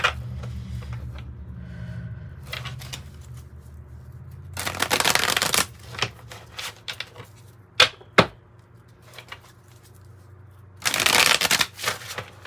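A gold tarot card deck is shuffled in several crisp, rapid riffling bursts, close and clear, separated by quieter handling clicks and taps.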